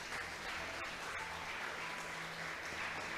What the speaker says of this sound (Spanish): ¿Cuántos le aplauden al Señor,